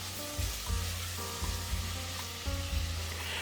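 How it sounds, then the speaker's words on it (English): Tomato and salt cook down in a pan for a mutton curry, giving a steady close sizzle and frying hiss, broken by several soft stirring scrapes and clunks, with no talking. "We need to let the tomato cook well."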